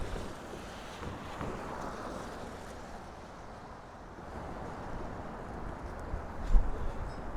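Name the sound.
wind blowing on microphone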